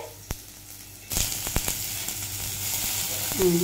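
Capsicum and tomato drop into a hot pan and burst into a loud, steady sizzle after a quiet start, with a few sharp clatters from the pan along the way and a brief voice near the end.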